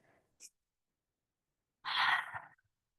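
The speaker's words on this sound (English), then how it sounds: "Let's take 2 breaths here." A single long, audible breath drawn and released during a vinyasa yoga session, close and soft, preceded by a brief faint inhale, with near silence around it.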